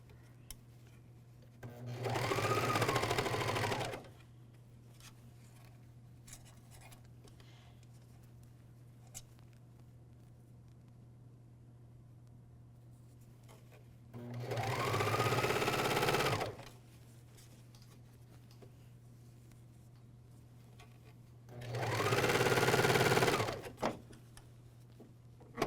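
A MyLock 454D serger stitches a cuff onto a pajama pant leg in three bursts of rapid, steady whirring a few seconds each, separated by quiet pauses with a low steady hum in the background.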